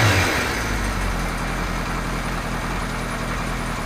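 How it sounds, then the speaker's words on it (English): Kawasaki Z1 motorcycle engine idling steadily after a rebuild, a constant broadband rumble that holds level throughout with no revving. "I've noticed the engine seems to be loosening up a little bit"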